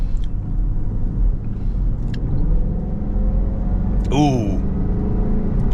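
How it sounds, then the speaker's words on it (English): A 2006 Range Rover Supercharged rumbles steadily from inside the cabin while driving, its engine drone continuous and close, with a brief vocal exclamation partway through. "I love that Supercharger whine."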